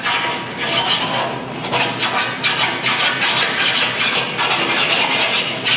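Steady rasping strokes of a drywall rasp filing a surface, loud and close, a rhythmic scratchy back-and-forth that continues without pause.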